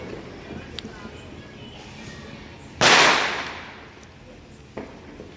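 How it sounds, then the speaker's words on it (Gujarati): A firecracker bursts loudly at night with a sharp crack and a short decaying rumble, and fainter pops sound before and after it over a low outdoor background. "જો ફટાકડા એટલા ફૂટ્યા હજુ."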